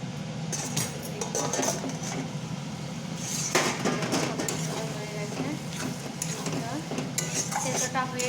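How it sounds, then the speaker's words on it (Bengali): Red lentils go into a pot of banana flower, eggplant and beans and are stirred, making continuous scraping and clinking of a spoon against the pot over a low sizzle, close and steady. "তারপরে মুসুরের ডাল দিয়ে দেবো ওই সবজির সঙ্গে একসঙ্গেই মুসুরের ডাল দেবো"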